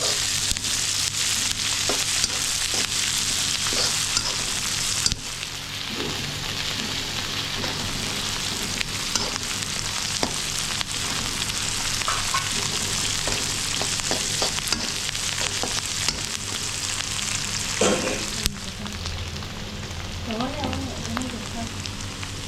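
Rice flour dough for a Telangana-style uppudu pindi being stirred as it cooks in a pan, continuous sizzling and bubbling with repeated scraping strokes throughout.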